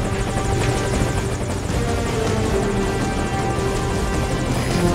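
A helicopter arrives for pickup in the video game Metal Gear Solid Ground Zeroes, its rotor chop and turbine roar steady, loud and continuous throughout with no talking.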